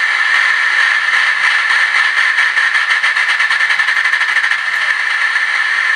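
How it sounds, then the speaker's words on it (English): The small electric motor of a radio-controlled Gauge 1 Duchess model locomotive runs steadily and close by, a continuous whirring drone with a faint rhythmic rattle. "when we turn the control knob, the wheels should now work"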